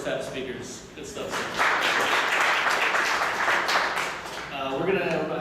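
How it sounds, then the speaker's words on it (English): Audience applause after talks at a security meetup gathering, a broad steady wash of clapping rising to full strength and holding, with speech mixed in at the start and end. "One more round of applause for our first half speakers."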